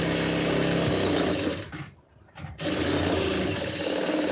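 A sewing machine stitches the lining of a blouse, running in a steady, loud mechanical whir that breaks off for about a second before starting up again at full speed.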